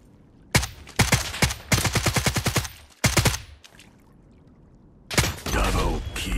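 Bursts of rapid automatic gunfire in the video game Lost Light, loud volleys of close shots separated by short quiet gaps, with a final burst near the end.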